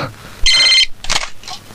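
A telephone rings in a bright, electronic warbling burst, followed by two shorter chirps, close and loud, with no talking over it.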